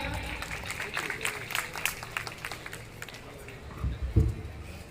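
Loud applause from a crowd at a Shivhare community celebration of Sahastrabahu's birth anniversary in Biaora, a dense sustained clatter of clapping with a swell near the end and voices murmuring underneath.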